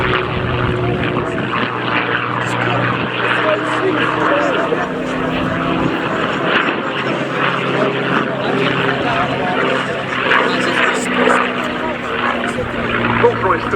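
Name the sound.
Mustang fighter plane with Rolls-Royce Merlin engine flying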